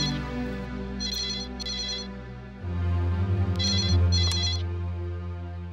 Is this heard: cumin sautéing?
no